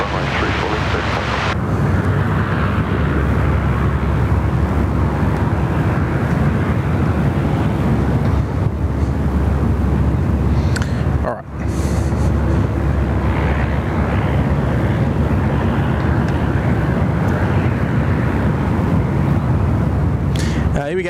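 A plane takes off from Sydney Airport, a loud, continuous jet roar rushing past with rumbling wind buffeting the microphone, a brief dip midway, and no clear talking.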